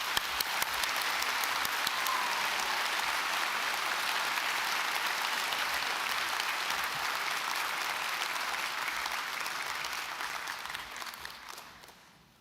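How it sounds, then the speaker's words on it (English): A large audience at a university graduation ceremony gives a long, sustained round of applause, dense and steady clapping that gradually fades out toward the end. "I think we need a big round of applause now."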